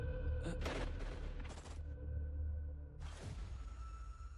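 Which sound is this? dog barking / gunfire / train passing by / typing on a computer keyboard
gunfire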